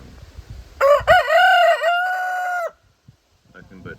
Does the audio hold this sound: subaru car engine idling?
no